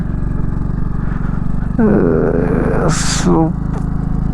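A 2010 Hero Passion Pro motorcycle climbs a high mountain road in second gear, its engine a steady, loud, close low drone with a rising rev, while someone speaks over it throughout.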